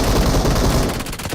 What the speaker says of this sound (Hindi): अभी ये बगल पे भी गोलियां चलने लग गई